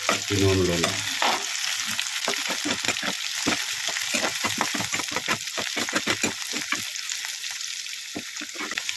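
Capsicum, egg and carrot curry frying in a pan, a steady close sizzle with repeated scraping stirs throughout, no talking.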